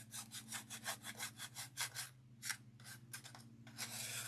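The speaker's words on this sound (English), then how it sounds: "I'm going to sand these bottoms a little bit." Wooden pieces for a DIY house number kit having their bottoms hand-sanded, a quick run of rhythmic back-and-forth scraping strokes, close and faint, with a short pause midway.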